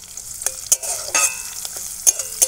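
Chopped onion and green chilli fry in a pan with a close, crackling sizzle broken by the scrapes and clinks of stirring, and no voices.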